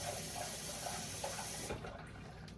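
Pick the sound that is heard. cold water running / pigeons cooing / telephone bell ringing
cold water running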